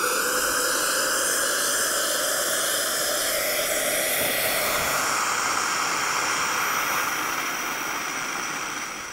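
Hot water rushes from the open tap of a Profitec Pro 700 espresso machine into a large pitcher, a steady loud hiss and splashing that continues without a break and fades slightly at the end.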